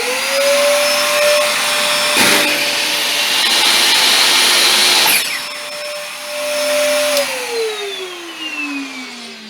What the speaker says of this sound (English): I'm going to turn on the workshop vacuum first, and then I'll go and turn on the saw.